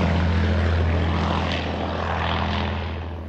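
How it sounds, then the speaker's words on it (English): Propeller bomber aircraft, a Wellington or Lancaster, passing overhead outdoors in Derbyshire countryside, a loud sustained droning engine roar that swells and fades slightly, no talking. "I think that was either a Wellington or a Lancaster bomber."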